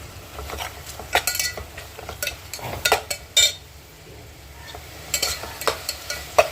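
Lamb intestine and tripe curry with masala fries in a pan, a soft low sizzle under repeated scraping and clinking of a spoon against the pan in uneven bursts, no talking.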